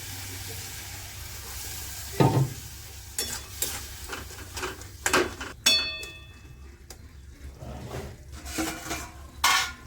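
Curry with fish head and taro leaves in a pan, sizzling and frying with stirring and occasional clinks of a utensil against the pan, several louder bursts as water hits the hot oil.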